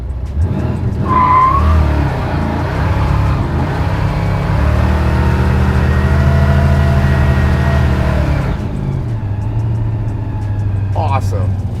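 A Chevelle muscle car does a burnout with only the front brakes locked, its engine roaring loudly and steadily while the rear tires squeal, before the revs drop and the engine settles; a brief squeal pitch rises near the start.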